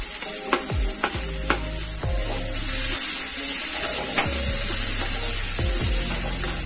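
Chopped onion and green chillies fry in a hot pan with a steady sizzle, and a spoon scrapes and taps the pan several times as they are stirred.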